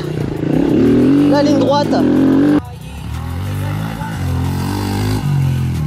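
An electric motorcycle ridden on a track gives a loud, close whine that climbs and shifts in pitch under someone talking, with a sharp change in tone partway through.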